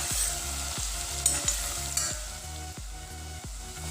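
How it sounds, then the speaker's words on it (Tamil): Onions, crushed ginger and garlic fry in a pan for chicken dum biryani: a close, steady sizzle broken by regular scraping stirs roughly every half second, with no voices. "வெங்காயம் பாருங்கள் நல்லா வதங்கிடுச்சு."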